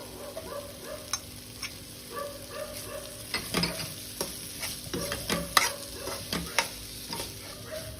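Carrots and onion for a veg paneer frankie sauté in a pan with a steady low sizzle, while a spatula scrapes and taps repeatedly in an uneven rhythm, close and clear, with no talking.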